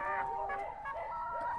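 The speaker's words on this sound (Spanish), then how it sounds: "Aquí tenemos otra gallina poniendo." Hens cluck and murmur close by in a laying house with nest boxes, several overlapping calls and drawn-out croons in a short, busy stretch.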